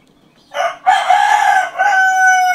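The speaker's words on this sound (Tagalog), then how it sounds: "Tumitilaok ka pa dyan." A rooster crows loudly and close by, one long full call with a brief break partway through, heard alone with no talk.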